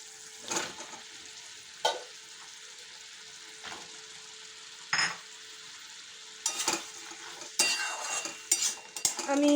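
Green beans and potatoes stir-fried in a pan: faint background sizzle broken by scattered spatula scrapes and stirring clatter, growing busier and louder toward the end, with no talking.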